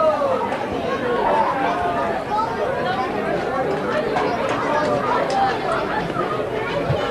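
Dense, steady crowd chatter and hubbub from a large gathering of about 3,000 at a 1986 Whyalla country football grand final, Roopena versus Central Whyalla, a continuous murmur of many voices with no single speaker standing out.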